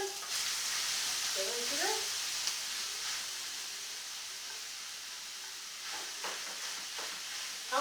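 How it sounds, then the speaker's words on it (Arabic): Minced meat hisses in a pan with a small spoonful of ghee, a steady broadband sizzle with a few soft stirring clatters, and someone speaks briefly over it. "هنزل بقى باللحمه كده اديلها صدمه الاول"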